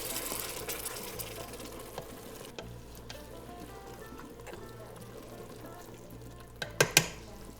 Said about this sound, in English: we'll uncover it, reduce the heat all the way, give it a stir